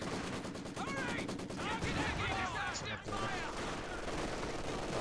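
Rapid bursts of machine gun fire from the video game Company of Heroes 2 crackle steadily and densely amid other battle noise, with a voice shouting over the gunfire.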